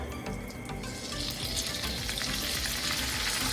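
Loud, steady sizzling of pork frying in a hot wok for Thai pad see ew, with crackling and spitting throughout and no voices.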